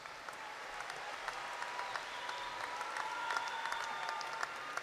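A round of applause for graduates at Angelo State University's 2018 spring commencement, steady scattered clapping from a large hall audience, moderately distant and sustained for several seconds.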